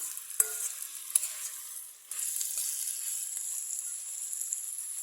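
Chopped eggplant frying with tomato and onion in a pan, a steady soft sizzle with a few stirring scrapes near the start, growing brighter and denser after a brief lull.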